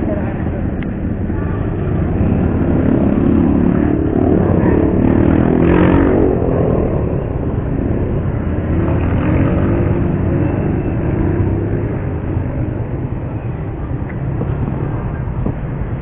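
A delivery rider's motorcycle rolls along steadily with a continuous engine drone and road rumble, close and loud throughout, with some voice mixed under the noise.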